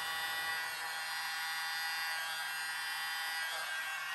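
Small electric blower pushing air across a Dutch pour of acrylic paint, giving a continuous high whirring hiss at a steady, moderate level from start to finish.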